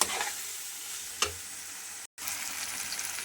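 Spice paste with two spoons of turmeric frying in oil in a pan, a close, continuous bright sizzle with a single scrape of stirring and a brief gap.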